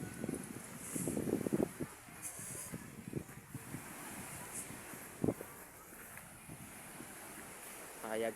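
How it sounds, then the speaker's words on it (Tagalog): Waves wash onto a beach in irregular surges while gusty wind buffets the microphone, at moderate to faint level with no clear talk. "Ako gipakita sa inyo ang dagat ha."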